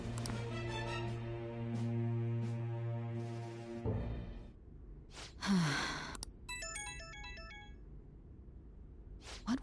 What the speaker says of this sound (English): You know that sound that like the phones make like when it rings in the game?